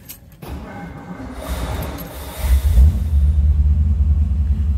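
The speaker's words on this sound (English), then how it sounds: "the car just idles and runs beautifully" A 1955 Ford Sunliner convertible, given a little choke after sitting, cranks briefly, fires and settles into a deep, steady low rumble at idle, close by and growing fuller as it runs.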